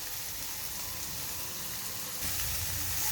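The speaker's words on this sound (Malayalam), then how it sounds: "ഇനി നല്ലവണ്ണം ഒന്ന് വഴറ്റുക." Carrots and beans sauté in a pan, a continuous close sizzle and crackle that grows louder and brighter partway through, with no voices.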